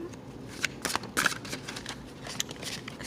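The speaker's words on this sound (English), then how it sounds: "I'm just doing a little shuffle until I feel compelled to stop" Deck of tarot cards being shuffled by hand, soft papery riffles and slides in quick irregular bursts, close and moderately quiet, with no talk.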